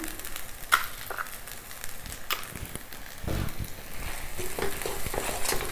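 Vegetables with rock salt sauté in a pan for a vegetable saagu, giving a low, steady sizzle broken by a few scattered spatula scrapes and taps, with no talking.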